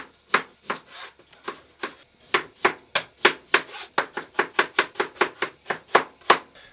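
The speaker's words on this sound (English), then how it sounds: "And then I'll just sort of cut these into like chips" Knife chopping potatoes into chip-shaped sticks on a board, a steady run of about two dozen crisp, close taps that quicken toward the end, with no talking.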